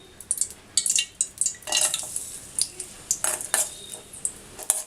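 Coconut pieces stir-fried in ghee for jackfruit payasam, with a metal spoon repeatedly clinking and scraping against the pan in quick, uneven strokes, close and fairly clear over a faint background.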